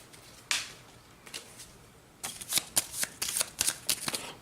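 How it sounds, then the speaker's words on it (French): Event cards for the Head of Mousehold board game are shuffled close by, with a few separate riffles followed by a quick run of crisp, rhythmic shuffling bursts and no talking. "Nous allons avoir des cartes événements comme ceci. Il suffit de les mélanger."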